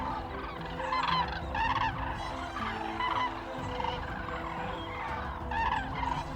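Wintering flock of common cranes calling together, a dense chorus of trumpeting, honking cries repeating in irregular bursts over a continuous rumbling background of many birds.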